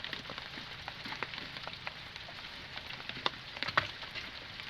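Rain falling outdoors while wood is split, a soft steady patter with scattered sharper drips and light knocks, faint and continuous.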